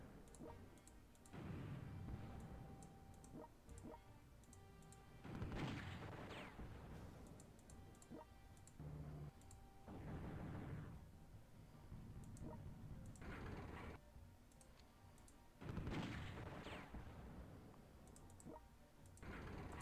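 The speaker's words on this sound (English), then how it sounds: "bombing Vancouver some more." Bombing in the mobile strategy game World Conqueror 3, faint muffled explosion bursts rolling in at intervals among small clicks and ticks, quiet and sparse without voices.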